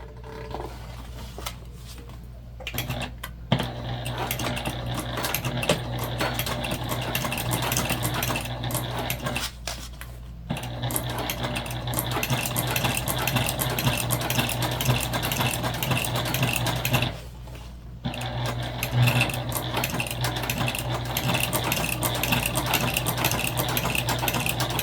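Domestic sewing machine stitching through backpack fabric, a steady mechanical whir and rapid needle clatter running almost continuously, with brief pauses between bursts of stitching.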